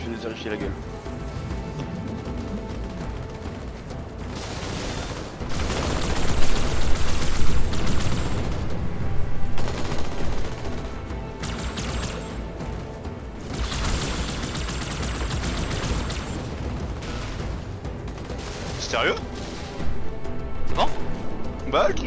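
Gunfire in Halo 2 during a cooperative campaign, coming as bursts of shots and blasts that swell and fade under near-constant conversation between players.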